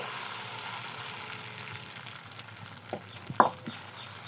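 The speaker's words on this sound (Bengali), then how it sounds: "আর একটু করে তেল দিব। আগে থেকে মেখে রাখা পাউরুটির মিশ্রণটা দিয়ে দিব।" Soft sizzle of a bread pizza mixture frying in oil in a pan, a quiet steady hiss with a couple of brief utensil clicks near the end.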